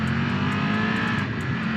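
Triumph motorcycle engine pulling hard under acceleration while riding, a steady close-up drone with a rising tone and constant wind rush, no voices.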